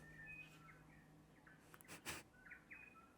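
Bird song sounds in short, fairly faint chirps and whistled phrases, repeated over a quiet background.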